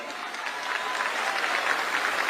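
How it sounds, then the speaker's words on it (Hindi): Audience at a political event in Delhi applauds, dense, sustained clapping from a sizeable crowd that holds steady throughout without a break. "एक बार जोरदार ताली बजाओ भाई कुलदीप जी के लिए"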